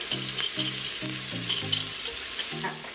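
Food sizzles steadily as it fries and sautés in oil with jalapeño, a continuous loud crackling hiss close up, with faint stirring taps and no talking.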